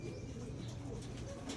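Racing pigeons of a Japan line kept for breeding coo steadily in a loft, with low, throaty, overlapping calls that continue throughout at close range and a faint chirp now and then.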